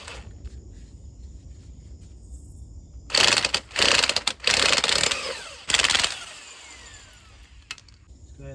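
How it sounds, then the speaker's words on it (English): A ratchet wrench removing the strut top hat nut on a 2005-2014 Ford Mustang during a front lowering spring install, several loud bursts of rapid clicking close up, separated by short pauses. "So it's already compressed enough to just go ahead and remove this top hat nut."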